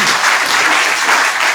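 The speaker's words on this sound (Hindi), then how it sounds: "हाँ ये बात ताली बजाओ" An audience claps together at a spiritual discourse by Swami Ramdev, a steady wash of applause from many hands, fairly close and unbroken.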